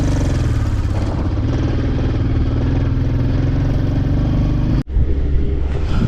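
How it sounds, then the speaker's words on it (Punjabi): A motorcycle engine roars steadily at full throttle in first gear, struggling on a mountain road, with a brief drop in sound near the end, loud and close, no talking. "ਪਹਿਲੇ ਗੇਅਰ ਤੇ ਮੋਟਰਸਾਈਕਲ ਫੁੱਲ ਰੇਸ ਦਿੱਤੀ ਹੋਈ ਹੈ ਮੋਟਰਸਾਈਕਲ ਪਰਫਾਰਮ ਨਹੀਂ ਕਰ ਰਿਹਾ"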